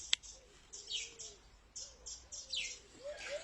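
Birds chirp and tweet in short, repeated phrases close by, with a soft cooing call underneath and a sharp tap at the start.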